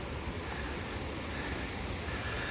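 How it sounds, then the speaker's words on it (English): Steady rushing water from a weir or waterfall at Llangollen, a continuous broadband roar that stays even and fairly close throughout, with rain falling and no voices. "That beautiful sound that you get from a weir or a waterfall."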